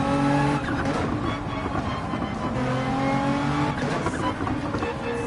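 A race car in Gran Turismo 7 on the Grand Valley circuit, engine droning steadily with pitch dropping under braking and downshifts, then climbing back on the throttle, loud and continuous.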